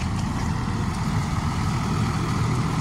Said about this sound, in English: And the engine fan is turned on.